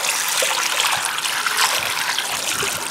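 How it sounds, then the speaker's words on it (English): Water is poured over a tumbled rock, a continuous splashing and trickling hiss that stays fairly loud and close for the whole few seconds. "Let's pour some water on it."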